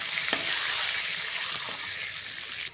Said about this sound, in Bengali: এরপর ভালো করে একটু নাড়িয়ে নেব তেলের সঙ্গে